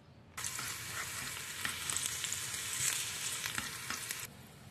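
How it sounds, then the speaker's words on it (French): Shallots and garlic frying in oil in a pan, a steady close crackling sizzle that starts abruptly and runs evenly for several seconds before cutting off, with no voices. "Verser de l'huile dans la poêle, je vais faire frire les échalotes et de l'ail."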